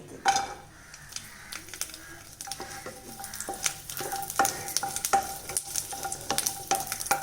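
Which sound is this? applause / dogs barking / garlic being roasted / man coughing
garlic being roasted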